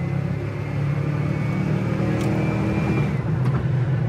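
A 1974 Dodge Charger with a 360 V8 pulls hard under acceleration, a loud, steady low engine rumble heard from inside the car with a rising whine running through it.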